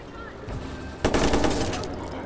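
Gunfire in Watch Dogs: a quiet background stretch, then at about one second a loud burst of rapid automatic shots with a dense, crackling rattle that holds to the end.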